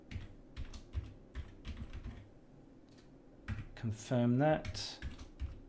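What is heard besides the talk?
typing login name and password on computer keyboard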